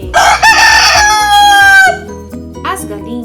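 A rooster crows in a loud, close, drawn-out call that rises and then falls away, with a brief clucking sound after it.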